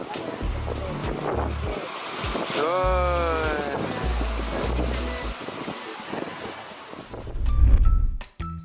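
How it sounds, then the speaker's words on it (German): Large ocean waves on the Indonesian coast roll and crash with a steady surf roar, buffeted by wind noise on the microphone and a heavier surge near the end; a faint voice-like tone briefly drifts through. "Bei so großen Wellen klappt es leider nicht, sich am Strand in Ruhe zu entspannen."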